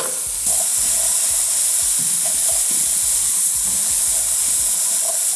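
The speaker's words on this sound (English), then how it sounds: "Gonna add the chana." Chickpeas (chana) hit a hot pot and sizzle loudly and steadily, a dense hiss of frying with faint stirring bumps underneath, close and continuous without talk.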